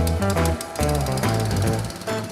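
A hired plate compactor pounds a sand and cement bed with rapid, heavy vibration, loud and close, dipping briefly once.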